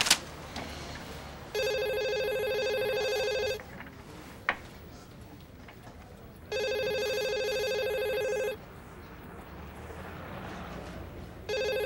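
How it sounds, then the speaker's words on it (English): Telephone ringing in an office scene of a teen detective drama, with three loud electronic ring bursts of about two seconds each, evenly spaced with pauses between, plus a brief click in between. "It's your phone, sir."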